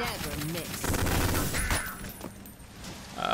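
Shotgun blasts and grenade launcher fire in the first-person shooter Ion Fury, a dense burst of gunfire and explosions over game music with a player talking, fading after about two seconds.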